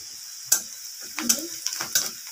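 Onions frying in a pan give a steady bright sizzle, with a few sharp scraping stirs of a spoon against the metal standing out over it.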